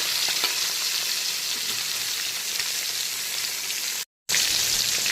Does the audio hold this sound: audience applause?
no